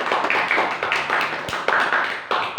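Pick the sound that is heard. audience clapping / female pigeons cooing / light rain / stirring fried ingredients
audience clapping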